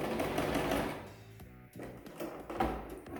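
Sewing machine stitching a double-thickness seam on swim shorts, a loud close rapid mechanical whir that pauses briefly for a turn before running again.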